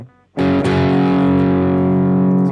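An eight-string electric guitar rings out through heavy distortion with the treble turned all the way up, a loud sustained chord full of bright, harsh high harmonics after a quiet lead-in, held steady for about two seconds.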